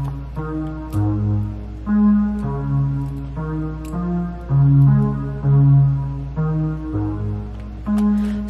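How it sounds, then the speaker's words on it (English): A low vintage strings synth patch plays a slow line of sustained notes over a steady low drone, each note swelling and fading in turn, clear and alone without voices. "which is called vintage strings."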